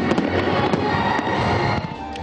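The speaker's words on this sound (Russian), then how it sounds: "Закончился же день традиционно праздничным салютом." Dense, continuous crackling and booming of a festive fireworks salute in Surgut, loud and close, with bursts popping over a steady roar.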